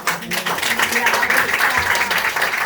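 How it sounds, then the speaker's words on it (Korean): An audience at a knowledge forum applauds a professor's lecture, a loud burst of steady clapping with talking voices layered over it. "박수 한번 보내주세요"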